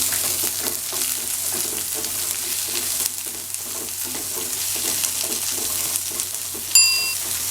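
Finely chopped onion frying in a pan for Kerala-style beans thoran, a loud steady sizzle with stirring scrapes, then a brief metallic clink near the end.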